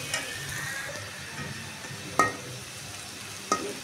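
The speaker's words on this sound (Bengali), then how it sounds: "পেঁয়াজটা হালকা ভাজা হয়ে আসছে" Onions fry in a pan for a Bengali hilsa fish bhuna, giving a steady hiss and crackle of hot oil. A couple of sharp clinks of a utensil stirring against the pan stand out, and no one talks.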